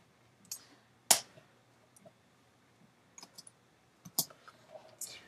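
Keys tapped on a Mac keyboard give sparse, quiet clicks, a few isolated taps and small clusters, close up with no talking.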